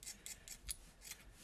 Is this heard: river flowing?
no